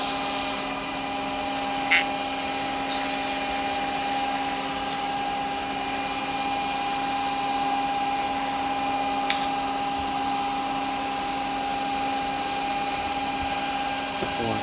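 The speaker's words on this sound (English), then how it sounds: "just sand down a little bit on that bottom" A wooden yoyo being sanded on a wood lathe, a steady whirring hum of the spinning lathe with sandpaper rubbing, continuous and fairly loud, with a couple of brief clicks and no talking.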